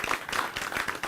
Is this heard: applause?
yes